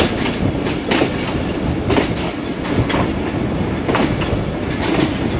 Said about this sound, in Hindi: ट्रैक साउंड भी काफ़ी बेहतर हैं